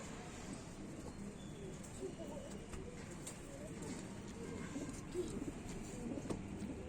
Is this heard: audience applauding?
no